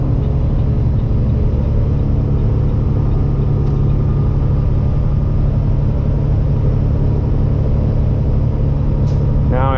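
A custom Peterbilt truck with straight pipes and an 18-speed transmission rumbles steadily and loudly from inside the cab, a constant deep engine drone with no clear break for a gear change, and a voice is faintly present under it.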